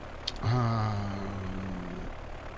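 Droning propeller engine of a DC3 Dakota aircraft in the game Transport Fever, a steady close hum that starts abruptly and holds level before easing off near the end, with no talking.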